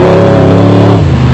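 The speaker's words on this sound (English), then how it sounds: "the American-built Ford Ranger, which is fitted with a 5-litre V8 engine" A Ford Ranger off-road race truck with a 5-litre V8 roars loudly and close as it passes at a 2001 off-road race in South Africa, its engine note dropping sharply as it goes by.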